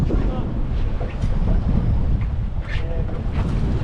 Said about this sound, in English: I'm crouching down behind the side of the console because it's so bloody windy